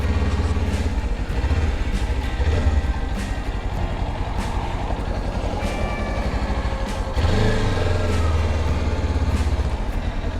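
An old motorcycle rides along a road in Ontario, Canada, its engine giving a steady, close rumble mixed with road and wind noise that grows heavier about two-thirds of the way through, with no talking.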